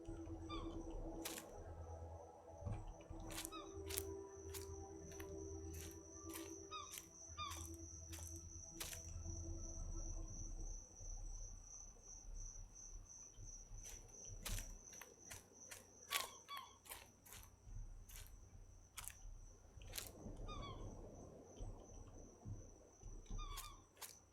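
Cicadas in the survival game Escape the Pacific drone in rapid high buzzing pulses, repeating in bursts over a soft low ambient bed, with faint scattered clicks and rustles in between.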